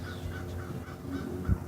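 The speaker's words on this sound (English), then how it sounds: "Bird's still here." A bird near a dog gives rhythmic, crow-like cawing calls, repeated several times at moderate distance over low background noise, with a brief low thump near the end.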